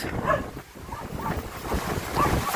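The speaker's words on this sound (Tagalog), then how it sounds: "Lakas ang dagat." Strong sea waves wash against the shore under gusting wind, with heavy wind noise buffeting the microphone in a steady, rough roar at close range.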